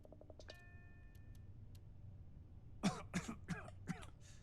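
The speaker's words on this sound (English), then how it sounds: "Oh, I'm coughing now. I got a cough." A person in a Starfield play session coughs four or five times in a row, close and fairly loud, after a few quieter ticking and beeping game sounds.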